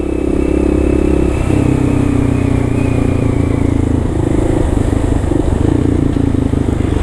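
A 150cc scooter rides close behind in New York City traffic, its engine droning loud and steady throughout, with a shift in pitch partway through and street clatter mixed in.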